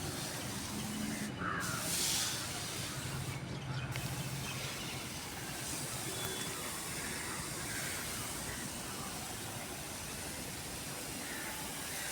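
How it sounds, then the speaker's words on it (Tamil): Steady, close hissing spray of liquid onto plants runs through the whole stretch, with a couple of brief breaks in the spray near the start. "இது மாதிரி எல்லா செடிக்கும் ஸ்ப்ரே பண்ணுங்கள்"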